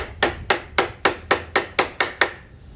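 A carpenter's hammer strikes wood during a door replacement, about nine sharp, evenly spaced knocks in a steady rhythm, close and loud with no talk.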